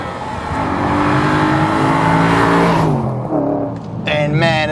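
An Audi RS4 with a 4.2-litre engine and Milltek exhaust revs hard while driving, a loud rising engine note climbing steadily then easing off before a quick second surge.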